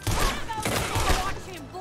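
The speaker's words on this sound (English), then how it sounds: "look how many shots this dude takes." Gunfire in the Red Dead video game as a large enemy soaks up many shots: a rapid volley of close shots mixed with voices talking over the action.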